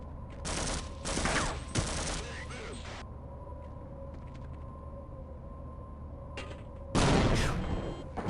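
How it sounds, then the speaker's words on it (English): Grenade explosions in Knights of the Old Republic II go off as sharp bursts, a cluster of blasts early on and another loud burst near the end, over a steady low game hum. "Grandmaster level grenade throwery."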